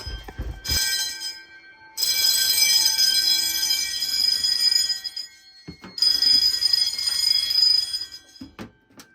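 Electric fire alarm bells ring loudly in two long bursts, with a brief pause between them, then cut off abruptly near the end, during a fire alarm system test.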